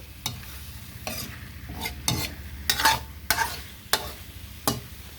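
A utensil beats a blood mixture for noodle soup in a pot, giving rhythmic scraping strokes about once every half second, close and moderately loud over a low bubbling hiss.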